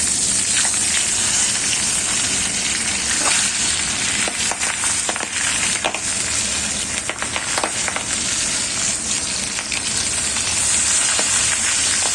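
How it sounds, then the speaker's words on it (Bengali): Tangra fish frying in a pan gives a steady, close sizzle with scattered sharp crackles and pops that runs unbroken for the whole stretch, with no voices. "মাছটা ভাজি"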